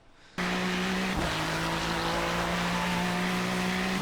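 A Ferrari 296 GT3 accelerates out of a corner at Sebring in the iRacing sim, its engine note bursting in suddenly and then holding a loud, sustained, steady tone with a brief wobble in pitch.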